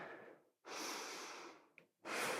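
A deep breath during a yoga flow, drawn in close to the microphone: a soft, airy breath, then a short pause and a second full breath beginning.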